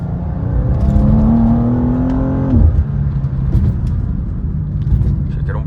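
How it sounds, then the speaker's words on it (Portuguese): BMW M2 engine revving as the car accelerates, a rising tonal whine that climbs then drops off, followed by a steady road rumble with a voice talking over it. "dar uma aceleradinha."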